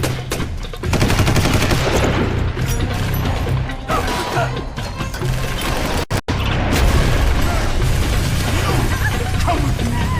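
Gunfire in the video game Tom Clancy's Rainbow Six 3 Black Arrow, with rapid bursts of shots, booms and crashes layered over a dense, loud game soundscape, broken by a brief dropout near the middle.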